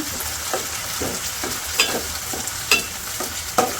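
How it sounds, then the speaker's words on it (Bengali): Spices and whole garlic cloves being sautéed in a pan for a beef curry, a steady sizzle with repeated scraping strokes of a stirring spoon roughly every half second, close and moderately loud with no talking. "এই যে মশলা তো কিছুক্ষণ কষে নিচ্ছি"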